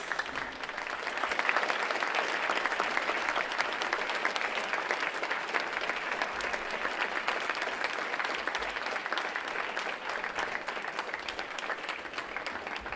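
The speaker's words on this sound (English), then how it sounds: "give yourself a round of applause" Sustained applause from a large crowd fills the room, a dense, steady wash of clapping that holds at the same level throughout.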